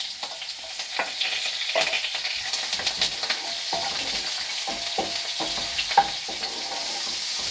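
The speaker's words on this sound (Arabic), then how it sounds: "سخن الزيت، بنرمي البصل مع ورقه الغار" Onion and bay leaf frying in hot oil in a pan, a steady bright sizzle with frequent soft stirring scrapes and clinks, close and continuous with no talking.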